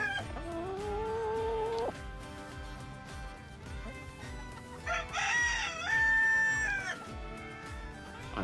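Chickens in a coop, with a rooster crowing loudly and hens clucking close by, layered bird calls rising and falling without pause.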